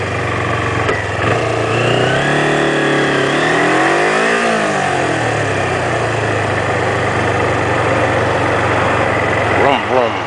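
Sportbike engine close by idles, then revs up and back down in a smooth rising and falling sweep before settling to a steady idle, with a short blip near the end.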